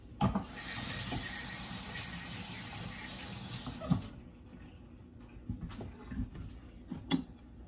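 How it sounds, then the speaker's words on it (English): Tap water runs steadily over a spoon at a home kitchen sink for about four seconds, then cuts off, leaving a few faint clinks and kitchen handling noises. "Gonna rinse off my spoon."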